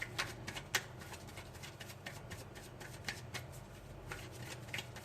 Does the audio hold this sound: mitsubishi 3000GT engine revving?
no